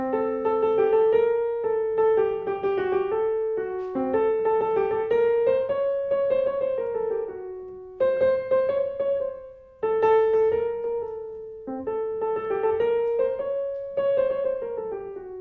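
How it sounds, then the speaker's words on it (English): A melodic line of single notes moves in steps through an octatonic scale of alternating half and whole steps, with gentle chords ringing underneath; it plays in phrases separated by short pauses. "So here is the octatonic mode."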